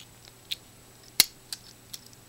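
A vintage Victorinox Climber Swiss Army knife's small spring-loaded scissors are opened, a few faint, sharp metallic clicks and snaps spaced apart against near silence, one click noticeably louder.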